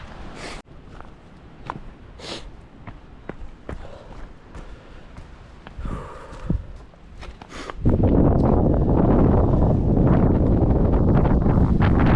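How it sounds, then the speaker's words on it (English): Wind buffets the microphone with rough gusts on Mt Karioi during a trail run, starting light with scattered footsteps and crunching, then turning into a loud, constant roar in the second half. "It's pretty windy up here."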